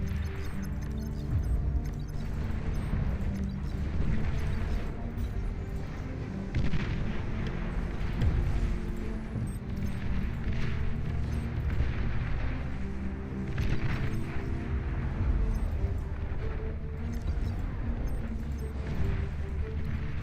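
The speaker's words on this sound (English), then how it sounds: "Mix in a couple barrages too, because why not? I'm a big fan of barrages." Continuous artillery barrages in the real-time strategy game Beyond All Reason, a dense, steady rumble of booming shots and explosions rolling on without pause for the whole stretch, loud and with no talk over it.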